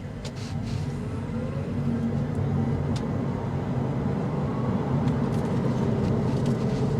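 A 2024 Mini Cooper SE electric hatchback, 181 horsepower, accelerates in sport mode, heard from inside as a steady road and tire rumble with a faint rising whine and occasional light clicks.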